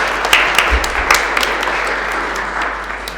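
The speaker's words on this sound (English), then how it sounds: "Let's give them a round of applause." Applause from an assembly audience greeting newly elected office bearers at an annual general meeting, a steady wash of clapping at fairly close range that holds for a few seconds.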